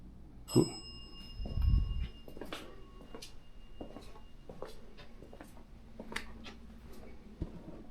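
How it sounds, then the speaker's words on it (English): Single bright bell strike with a ringing tone that fades slowly, followed by faint scattered clicks and bumps in a quiet room. "That was the bell."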